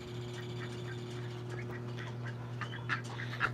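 Ducks quack faintly in the background of a backyard at sunset, a few scattered calls over a steady low hum from an evaporative cooler running nearby.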